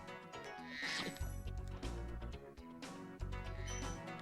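A goat in the video game Spyro the Dragon bleats in wavering cries over loud, rhythmic game music with deep thumping beats, the calls rising twice above the score.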